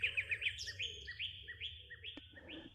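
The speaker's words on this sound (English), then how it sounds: "Invisible birds chirped in the surrounding foliage." Several small birds chirp and trill in surrounding foliage near a eucalyptus-scented hotel entrance, with quick repeated calls close by and a brief sharp tap partway through.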